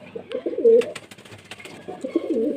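Andhra pigeons at a home loft coo nearby in two low, throaty rolling phrases separated by a brief pause, with no speech.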